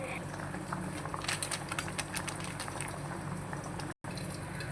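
Mutton intestine curry with mutton masala simmers in a pot, giving a steady, close bubbling boil throughout with a brief dropout near the end.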